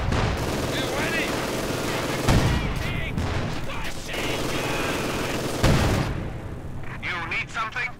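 MG42 machine gun fire in Company of Heroes 2, a 1v1 match, rattling in dense bursts with two sharper louder volleys, mixed with other battle noise and a commentator talking over it.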